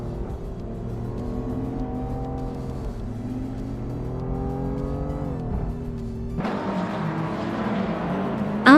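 Racing video game engine of a 1986 BMW M3 E30 race car, with steady harmonic revving that climbs and drops through gear shifts, then a burst of louder broadband roar and tire noise near the end, continuous and close.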